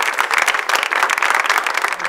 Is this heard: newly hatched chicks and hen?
no